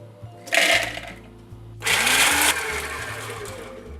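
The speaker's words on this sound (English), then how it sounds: "We're gonna put 1/2 cup of raw cashews into a food processor. We're gonna grind it a little bit till it gets kind of coarse." A food processor grinds half a cup of raw cashews in two loud bursts, a short whirring pulse followed by a longer rough grinding run, with no talking.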